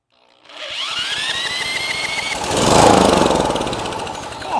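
A Honda GX390 13HP engine cranks and catches, then runs steadily at close range, a loud continuous mechanical roar with a rapid firing rhythm that swells briefly mid-run.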